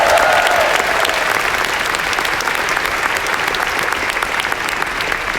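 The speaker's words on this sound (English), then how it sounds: "So I'd like you to give a round of applause to all the live streamers." A large keynote audience at Workday Rising 2018 in Las Vegas claps in sustained, dense applause that stays loud and even throughout, with no voices rising above it.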